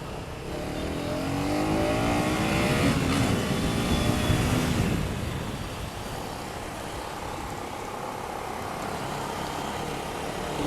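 A KTM Duke 250 Gen 3 motorcycle accelerating on the road, its engine revving and rising in pitch before settling into a steady drone with wind noise, loud and close throughout.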